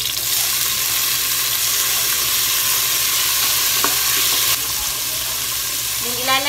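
Garlic and onion sizzle steadily in hot oil in a home kitchen, a dense continuous frying hiss with faint stirring scrapes and a few clinks near the end.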